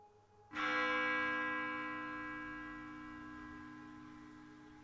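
A single bell in a VR roleplay game is struck once and rings out, its clear metallic tone lingering and slowly fading with no talk over it.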